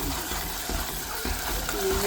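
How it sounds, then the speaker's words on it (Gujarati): Food coming to a boil in a pan: a steady, close bubbling and hissing that runs unbroken throughout, with a faint tone rising near the end. "આ મારું ઉકળવા માંડ્યું"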